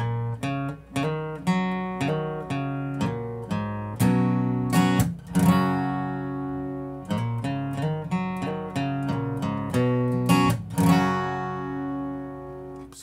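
Acoustic guitar played slowly with hammer-on notes and chord strums from a country song, a steady picked pattern with ringing strings, close and clear, no voice.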